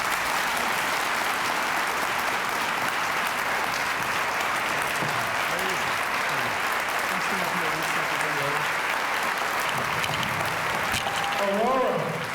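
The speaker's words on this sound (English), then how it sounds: "let the applause go louder for Dr. Julian Bond" A large audience at a 2014 Martin Luther King ceremony in Aurora claps steadily and loudly for about twelve seconds. A voice speaks over the applause near the end.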